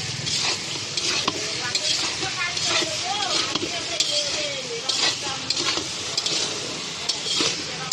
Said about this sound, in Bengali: এবার ঢাকনাটা খুলে নেব, কিছুটা নেড়ে নেব একটু।